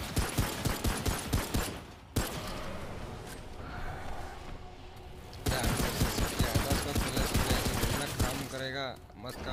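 Rapid bursts of gunfire in the video game Remnant: From the Ashes, in regular rhythmic volleys, loud and close, with a pause in the middle before the shooting resumes, faint voices underneath.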